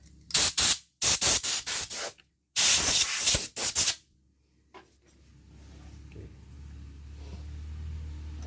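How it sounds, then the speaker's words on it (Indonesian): Compressed air blasts onto a Honda Beat FI motorcycle engine part in a workshop: a few loud, close hissing bursts of varying length in quick succession, then a low background hum. "kita semprot dengan udara bertekanan"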